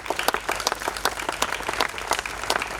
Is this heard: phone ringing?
no